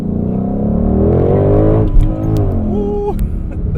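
A Chevrolet Camaro ZL1 with a 10-speed transmission revs loudly while driving, its engine note rising and shifting in a sustained, close growl.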